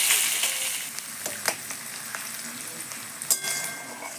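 Onions frying in hot oil in a pan for ghugni, a bright continuous sizzle up close with sharp crackles and a couple of stirring clinks.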